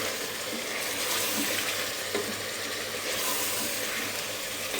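Ground coriander, garam masala, turmeric and cumin powders frying in a pan for mixed dal, a loud, continuous close sizzle with faint stirring scrapes throughout.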